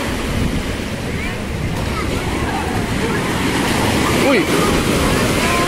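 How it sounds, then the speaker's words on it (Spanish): Strong surf pounds the shore at Caleta beach in Acapulco during a possible swell, a constant loud roar of breaking waves mixed with gusting wind buffeting the microphone, with a brief voice exclaiming near the end. "El oleaje sí tiene un buen alcance ahorita"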